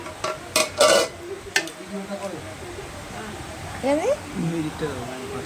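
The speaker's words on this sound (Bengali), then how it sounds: "এই যে আমি আস্তে আস্তে ভাতগুলো দিয়ে দেবো।" Utensils clink and scrape against dishes as rice is served onto leaf plates at a home puja meal, a few sharp metallic taps close by, with people talking throughout.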